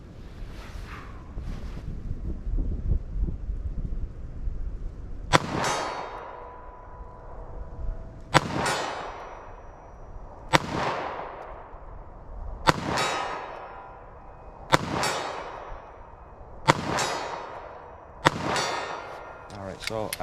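9mm pistol shots from a short barrel fired at a target 50 yards away outdoors, eight sharp cracks spaced a couple of seconds apart, with faint metallic clangs and wind noise.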